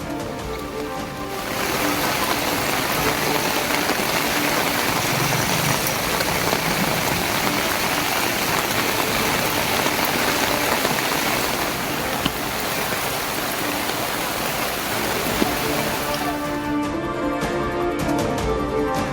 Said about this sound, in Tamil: சென்னை பெருங்களத்தூரில் பெய்த மழையால் சாலையில் தேங்கிய தண்ணீர்